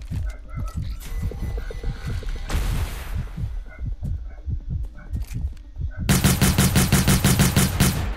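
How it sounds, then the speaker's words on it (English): Automatic weapon fire in the PC game Cyber Hunter, steady rapid bursts of gunshots throughout, growing louder and denser near the end with a faster rattling stream. "automatic shooting"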